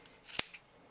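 Scissors snip knitting yarn for a pair of knitted women's slippers, a single sharp close cut in a quiet room.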